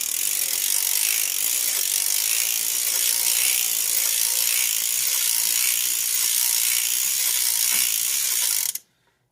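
A circular sock knitting machine being hand-cranked, making a steady, continuous ratcheting clatter of needles and gears that runs unbroken and close up, then stops abruptly at the end.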